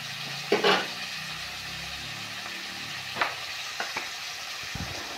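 Chicken sizzles in a pan with chopped tomatoes and chillies, a constant close frying hiss with occasional scraping stirs and knocks, no one speaking.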